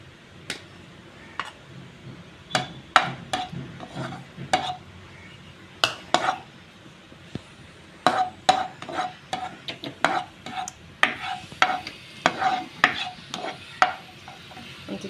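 Green chilies fry in hot oil in a pan: sharp, scattered pops and crackles burst at irregular intervals over a faint background hiss, growing busier toward the end.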